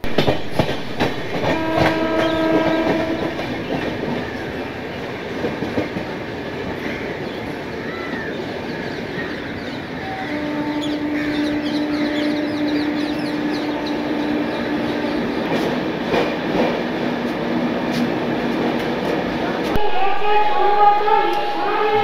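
The Puri–Sealdah special train rumbles along with rhythmic clickety-clack from the wheels and a horn sounding partway through, heard from onboard while people talk over the steady run.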